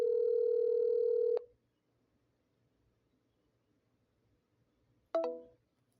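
Telephone dialing tones: a steady dial tone holds for over a second and cuts off, then after a quiet pause a short burst of keypad tones sounds and fades.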